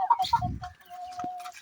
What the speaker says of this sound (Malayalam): അത് നമ്മുടെ ഗ്രാമശ്രീ കോഴികളാണ്.